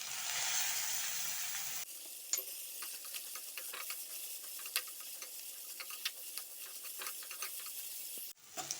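Capsicum and cabbage fry in a pan with a soft steady sizzle, punctuated by scattered clicks and scrapes of stirring; a louder burst of noise opens the stretch before it settles into quieter frying.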